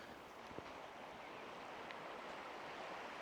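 A main river flowing past a quiet village road at midnight, a soft, steady wash of moving water heard at a distance, with faint wind and no voices.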